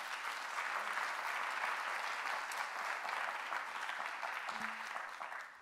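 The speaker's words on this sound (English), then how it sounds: "Can we have a round of applause for Brenda?" An audience at a panel discussion event breaks into sustained, even applause, a steady wash of many hands clapping at moderate distance with no talk over it.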